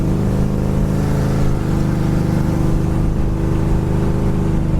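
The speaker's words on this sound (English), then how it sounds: "As far as the car going down the road, the car goes down the road great." A 1972 Chevrolet Chevelle SS with factory air conditioning driving down the road, giving a loud, continuous engine drone and road rumble that hold steady throughout, with no voices.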